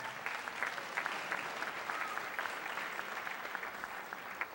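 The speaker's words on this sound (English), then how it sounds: "Give them a round of applause, ladies and gentlemen." Audience applause in New York City at a fencing exhibition evening, a dense steady clapping that holds at even strength throughout.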